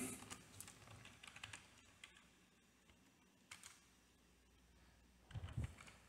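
Keys clatter on a computer keyboard in irregular bursts during an online class. The typing stops and starts in quick clusters, then ends with a louder flurry of strikes, and no one speaks.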